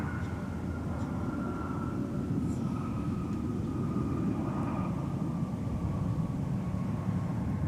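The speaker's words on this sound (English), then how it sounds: "Now arriving on 12 right, SkyWest 4026 from Indianapolis, Indiana with an E175 LR." SkyWest Embraer E175 LR jet arriving on runway 12 right at Minneapolis–St. Paul airport, a distant steady engine roar with a faint whining tone, continuous and moderately quiet, no talk.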